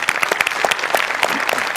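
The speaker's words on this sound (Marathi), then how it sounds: "जोरदार टाळ्या." Audience applause after a stage performance of a comic kabaddi match, brisk and loud clapping from many hands, dense and even throughout the short burst.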